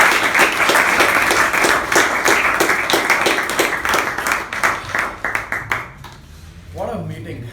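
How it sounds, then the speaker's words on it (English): A meeting audience gives the MC a round of applause, loud and close at first, then thinning into scattered claps that die away near the end as a voice begins speaking. "can we have a thunderous round of applause for the MC?"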